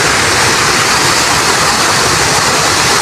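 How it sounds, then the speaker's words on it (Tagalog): Flood water pours down in a heavy, loud, continuous rush with strong waves churning, a dense roar filling everything with no break. "palakas pa ito ng palakas kasi oh, yung bagsak ng tubig"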